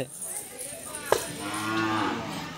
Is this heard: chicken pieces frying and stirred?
no